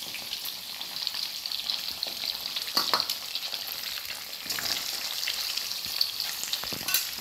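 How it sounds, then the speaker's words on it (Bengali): Slit boiled eggs fry in hot oil for an egg curry, giving a steady, close crackling sizzle with scattered sharp pops and a few stirring scrapes, no talking. "দিয়ে আমি একটু ভেজে নেব ডিমটা"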